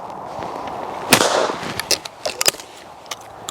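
A shotgun fitted with a recoil reducer fires one sharp, loud blast outdoors, followed by a brief decaying echo and a few light clicks and knocks.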